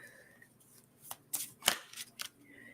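Oracle cards being shuffled by hand, a few quick soft riffling and slapping bursts close by in a quiet room, with faint background murmur.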